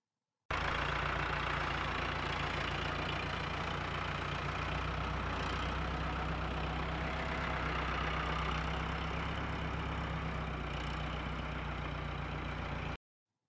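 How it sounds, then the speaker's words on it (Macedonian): A tractor engine idles in a steady, low diesel rumble, unchanging and continuous for about twelve seconds, moderately quiet with no voices. "Трактор."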